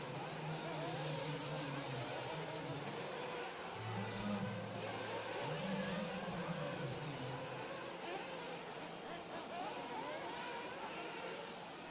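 Race cars at Silver State Championship qualifying drone continuously in the distance, a steady blurred roar with a few rising and falling engine tones passing through.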